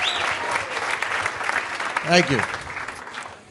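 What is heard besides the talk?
audience applause at comedy club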